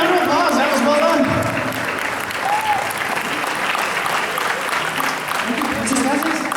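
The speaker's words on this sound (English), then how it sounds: "Give her a round of applause" Conference audience applause, steady and full, with a crowd clapping throughout while a voice talks briefly over the start and again near the end.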